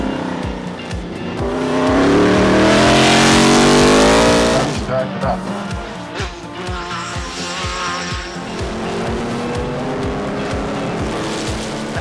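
Race cars at a motorsport festival circuit roar past, one loud pass swelling and fading at mid-distance, followed by further engine noise and tire sounds as more cars circulate on the track.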